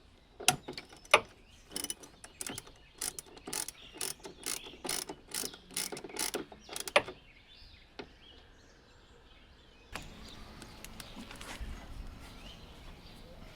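Tool threading a fitting into the flaking exhaust vent of a Lotus Evora, a rapid series of sharp ratcheting clicks at close range, then quieter mechanical rustling and faint clanks.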